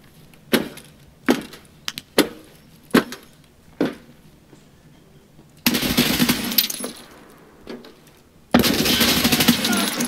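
Gunfire from an Escape From Tarkov firefight: a run of sharp, spaced single shots echoing loudly, then two long dense bursts of rapid automatic fire, with no talking.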